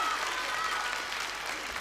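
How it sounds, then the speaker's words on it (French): A studio audience at a French television game show claps steadily for a short burst, even and fairly loud, with no pauses. "Et puis, on applaudit Paul Grégoire."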